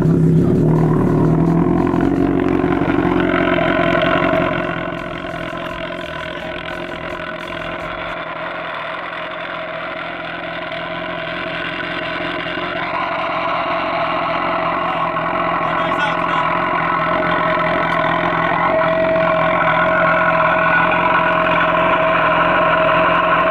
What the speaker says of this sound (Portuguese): Fez mais barulho com a moto parada.